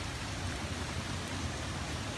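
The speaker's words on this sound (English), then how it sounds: "Yep, it's raining. Raining and windy." Rain falls on a windy day as a steady, even wash of close patter and broadband noise, unbroken for the whole moment with no voices.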